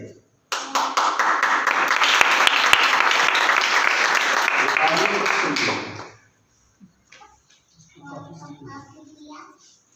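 Church congregation breaks into dense, loud applause that runs for several seconds and stops abruptly, leaving faint speech and shuffling in a quieter room.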